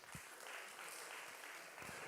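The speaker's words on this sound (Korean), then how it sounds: "우리 준혁이에게 박수." A college and young adults church congregation applauds for a young man named Junhyeok, a steady, faint wash of clapping heard from across the room.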